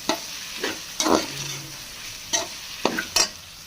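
A spatula stirs a chopped vegetable mixture for chicken macaroni in a hot pan. A handful of close, irregular scraping strokes sound over a soft sizzle, with no voices.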